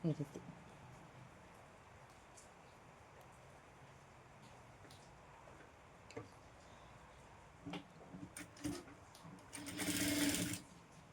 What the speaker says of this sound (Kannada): ಇಲ್ಲಿ ಇಷ್ಟು 1/2 ಇಂಚಿನಷ್ಟು ಮಡ್ಚ್ಕೊಂಡು ಸ್ಟಿಚ್ ಮಾಡಬೇಕು